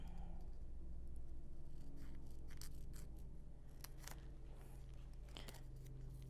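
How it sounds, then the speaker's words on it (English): Scissors cut through a tubular peyote card, a paper beading template, trimming it to size with several soft crunching snips over a steady low background hum. "we're going to cut it right about there"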